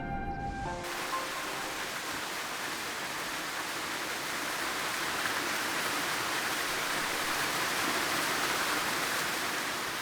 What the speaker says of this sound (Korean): 천 개의 기암 사이로 흐르는 숱한 물줄기들이 구르고 뛰면서 세상의 낮은 곳으로 향합니다